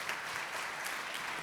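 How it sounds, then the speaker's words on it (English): Audience applause at a Rotary Club meeting for three RILA attendees, steady broadband clapping that fills the whole short stretch at an even level with no voices on top. "Let's have one round of applause for our 3 RILA attendees"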